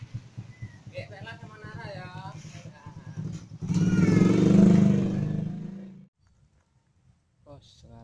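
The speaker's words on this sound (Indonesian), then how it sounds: "kita naik motor itu ya" A motorcycle engine idles and rumbles, then swells into a louder revving surge before cutting off, with people talking over it, setting off for a river fishing trip.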